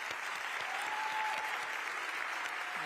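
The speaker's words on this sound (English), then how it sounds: "Let's give another round of applause to our incredible speakers and performers" Steady, even applause from an evening audience at the Bloomberg Green Festival, a TED Countdown event, fills the whole stretch as a dense, soft wash of many hands at a moderate distance, with no one talking over it.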